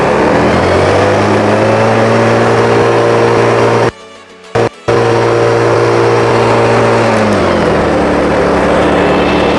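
A small 50cc four-stroke GX50 engine on a fertilizer blower runs loud and steady nearby, cutting out abruptly for a moment before roaring back at full throttle.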